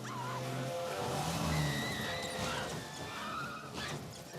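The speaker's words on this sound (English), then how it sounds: "the car chase with the Mini" A Mini speeds through a chase with sustained tire squeal and skidding over a steady engine roar, with shifting high-pitched screeches sliding up and down as the car slides and accelerates, loud and continuous throughout.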